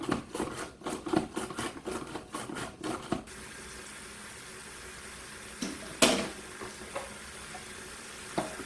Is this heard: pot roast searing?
yes